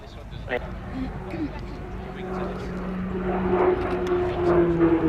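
A propeller aerobatic aircraft performing a stall-turn style manoeuvre at an airshow, its engine note droning and rising in pitch as it climbs, heard under an announcer's commentary.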